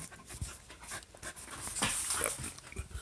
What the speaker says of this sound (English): I'm gonna have to put this dog outside.